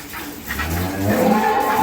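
A dairy cow on a farm lets out one loud, close, drawn-out moo, rising slightly toward the end.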